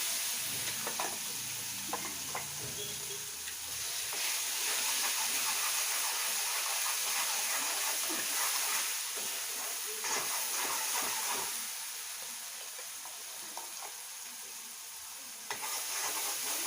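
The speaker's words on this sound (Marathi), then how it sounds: "ही जी गोळी आहे ती आता आपल्याला चांगली परतून घ्यायची असते याच्यामध्ये" A masala spice ball for a black-eyed bean pod curry sizzles and hisses in hot oil with asafoetida as it is stirred, a loud, steady frying hiss with intermittent scraping strokes that eases somewhat toward the end.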